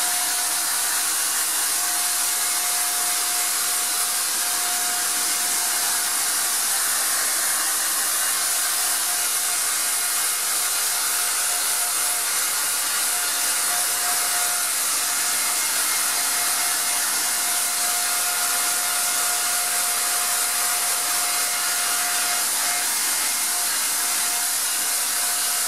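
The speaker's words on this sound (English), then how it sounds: "let's turn back on the compressor." An air compressor runs continuously near an outdoor inflatable projection screen, giving a steady loud hissing whir with a faint constant hum and no pauses, with no one speaking.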